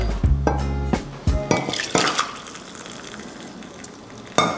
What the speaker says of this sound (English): So first we gotta pour the boiling hot water into this cup.